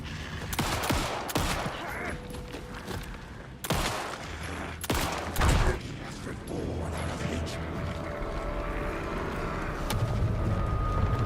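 Dense, rapid gunfire and heavy blasts in the video game Alan Wake II, loud and continuous with sharp bursts standing out over a rumbling background, and a voice briefly present underneath.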